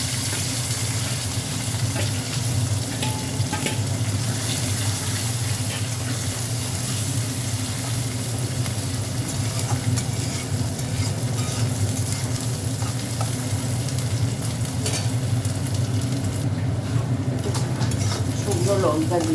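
Chopped onion frying in a pan for a red saag dish, a dense steady sizzle with faint stirring, close and unbroken throughout.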